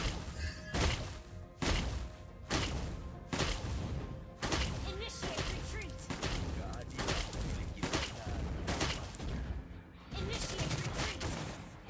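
Clint, a marksman hero in the mobile game Mobile Legends, fires repeated shots at an enemy turret: rhythmic heavy blasts and thuds recurring about every second, with impact crashes in between and game effects layered throughout.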